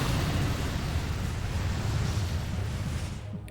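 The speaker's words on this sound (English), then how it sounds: "goes with the Explosion." Pokémon Explosion move effect from a Metronome battle, a sustained loud rumbling blast that roars steadily for about three seconds before tapering off at the end, with no voices.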